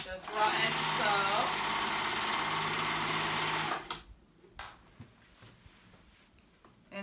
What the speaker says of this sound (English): And we're gonna sew it together to make one continuous band.